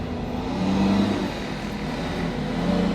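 A car drives past close by, its engine a steady, loud hum with a low droning tone that swells slightly and then holds.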